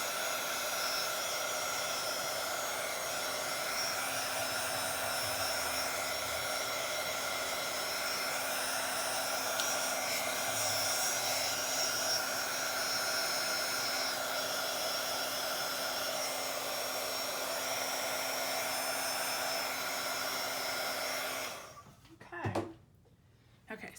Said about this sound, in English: But let me grab my dryer. Make sure this tempera paint is dry